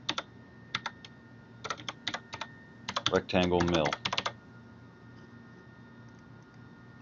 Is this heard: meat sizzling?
no